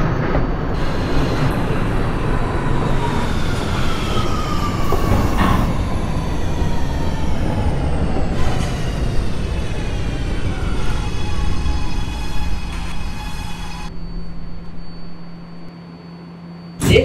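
An R211A subway train in a simulator game running on the A line toward Far Rockaway, giving a steady rumbling roll with rising motor whine and squealing tones that fade toward the end.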